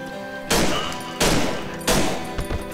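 Three heavy gunshots fire at an even pace in the horror video game Cry of Fear, each a loud sharp blast with a long ringing tail, followed by a smaller thump.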